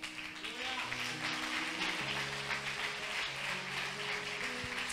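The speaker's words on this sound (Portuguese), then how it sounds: "Aplauda o Senhor por isso." Church congregation applauding after a sermon, a steady broad wash of clapping over sustained organ or keyboard tones, filling the whole stretch at moderate level without distinct individual claps standing out.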